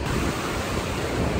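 Waves wash onto the Lake Ontario shore in upstate New York, a continuous broad rushing surf with some wind, loud and close, no voices.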